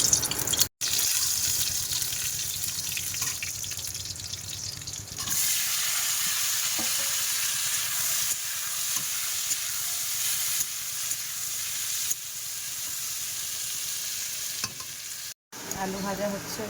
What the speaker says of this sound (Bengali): আলু ভাজা হচ্ছে এদিকে